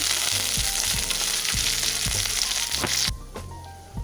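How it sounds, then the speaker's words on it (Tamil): Hot oil sizzles loudly with crackling pops and spattering mustard seeds, a steady frying hiss that suddenly drops away near the end. "எண்ணெய் ஊற்றிட்டேன் கடுகு போட்டு கடுகு பொரியட்டும்"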